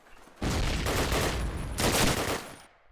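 Rapid gunfire in a competitive shooter match, a headshot landing: two dense, loud bursts of shots back to back, close and harsh, with a brief dip between them.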